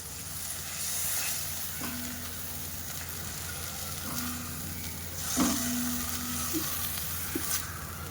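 Continuous sizzling and frying of spices roasting in a hot pan, with occasional scraping stirs and small clinks against the steady hiss.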